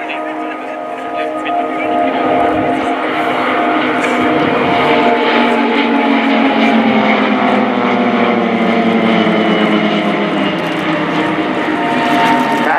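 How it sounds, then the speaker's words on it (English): Pilatus PC-7 propeller aircraft flying a four-plane crossing manoeuvre at an air show, a loud sustained engine roar with sweeping pitch shifts as they pass, with an announcer speaking over it. "So you will observe now a spectacular crossing of 4 aircraft called Pac-Man."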